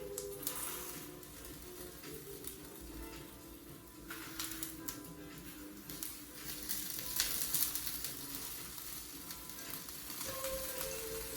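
Feta and other ingredients frying in a pan over medium heat, a steady close sizzle with light crackling running throughout, growing slightly busier toward the end, with no talk.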